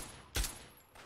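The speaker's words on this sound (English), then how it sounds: "Oh, okay, I'm getting shot at. I'm getting shot at." Gunfire in the video game Fallout 3: a single loud, close gunshot burst with a sharp low thump, followed by a fainter second report near the end, with no talk over it.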